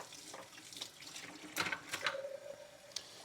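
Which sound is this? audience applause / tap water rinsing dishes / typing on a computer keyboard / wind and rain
tap water rinsing dishes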